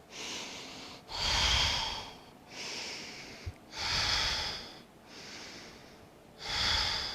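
Slow, deep breaths during a yoga pose in a basics class, about three full inhale-exhale cycles with clear airy rushes and quieter pauses between, close and alone without talk.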